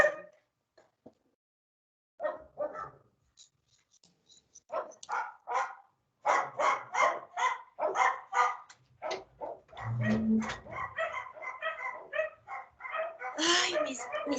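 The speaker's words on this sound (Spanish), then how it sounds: "Tocan el timbre y ahí mismo empiezan a ladrar" Small pet dogs bark in sharp, excited bursts right after a doorbell at home, a dense run of yips and woofs in the second half, with someone talking over and between the barks.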